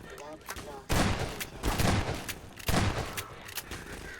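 Bursts of gunfire in Half-Life 2: Episode 1: loud close volleys of automatic shots come in three separate waves with short lulls between them, and a voice is heard faintly under the firing.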